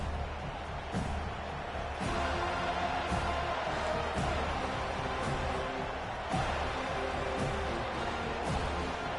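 A large football stadium crowd roars in a steady, dense wash of cheering and noise, loud and continuous throughout with small swells, as a team lines up after a touchdown kickoff.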